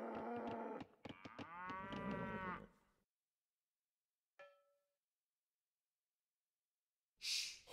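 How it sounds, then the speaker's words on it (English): Age of Empires cattle give a clear drawn-out moo and then fall silent, followed by a short game blip and a brief burst of effect noise near the end. "that Lynch is just happily herding cows. Just getting all the cows"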